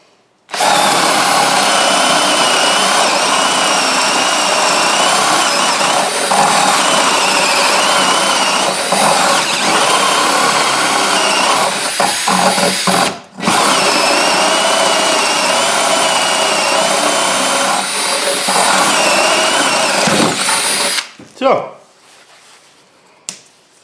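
An 18V cordless drill, a Metabo or Bosch with a small battery, running in drill mode in second gear, whines loudly and steadily for about twenty seconds with one brief pause before stopping.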